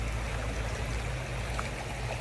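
A river flowing nearby, a steady, broadband watery rush with low rumble that holds evenly throughout with no talk.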